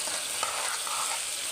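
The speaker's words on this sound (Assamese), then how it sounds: "এতিয়া মছলাখিনি মই ভালদৰে লৰাই দিছোঁ।" Chicken masala spices and meat frying in a pan make a continuous dense sizzle while being stirred, close and steady with faint scraping, no voices.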